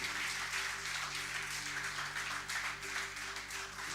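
A congregation in a Spanish-language church service claps in steady, dense applause that fills the room evenly, with a low electrical hum underneath.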